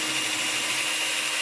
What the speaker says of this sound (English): now I'm going to drill a hole to receive the molly